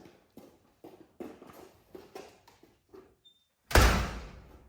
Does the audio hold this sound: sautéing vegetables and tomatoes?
no